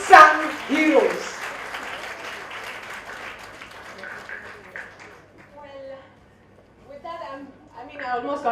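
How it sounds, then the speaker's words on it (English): Seminar audience breaking into loud applause that swells at the start, then thins and fades out midway before scattered clapping picks up again near the end, with some talk mixed in. "Let's have a thunderous of round of applause for yourself"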